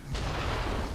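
A hand cannon fires in a video game, one sharp, loud boom that breaks a quiet moment and rings on in a dense, sustained roar.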